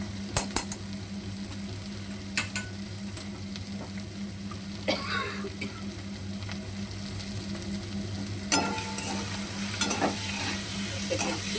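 Asafoetida fries in hot oil with a low, steady sizzle, broken by a few faint clinks and scrapes of a utensil against the pan, quiet and close.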